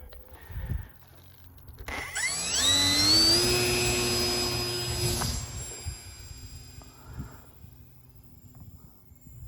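An HK Hurricane radio-controlled model plane spools up with a rising electric whine around the two-second mark, holds a loud buzzing pitch for a few seconds, then fades as it moves away, with wind rumble and handling thumps around it.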